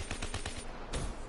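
Rapid automatic gunfire in Black Ops 3 rattles out in a steady string of close, loud shots with a heavier blast near the end, with no talk over it.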